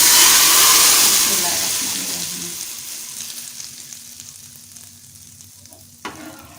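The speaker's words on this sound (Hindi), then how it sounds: "अब इसके अंदर हम तड़का लगा रहे हैं।" Tempering of cumin and dried red chillies poured into cooked moong masoor dal, a loud burst of sizzling that fades steadily over several seconds, ending with a faint clink.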